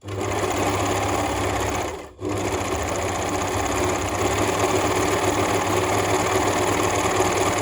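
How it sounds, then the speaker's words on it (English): A sewing machine runs steadily, stitching along the top edge of a shirred elastic summer dress: a continuous close mechanical whir with a very brief pause near the start before it resumes. "I'm just going to sew that all along my top edge for a really nice, neat finish."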